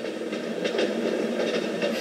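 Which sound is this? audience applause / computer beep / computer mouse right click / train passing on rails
train passing on rails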